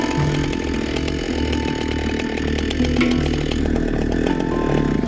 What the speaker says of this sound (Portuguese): E Mutega usa a motosserra para cortar a outra presa.